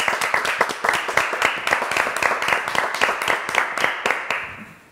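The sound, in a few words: audience applauding a singer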